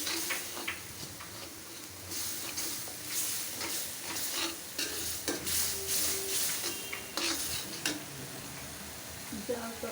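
Eggplant and goat curry with coconut milk simmers and sizzles in a pan with occasional stirring scrapes and clinks, fairly close, with faint speech in the background.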